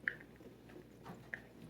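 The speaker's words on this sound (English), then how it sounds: "now we're going to put a little bit of macaronis in, just a little at a time" Macaroni is stirred a little at a time into a creamy dressing for macaroni salad, giving faint, soft wet squishes and two brief spoon clicks against the bowl.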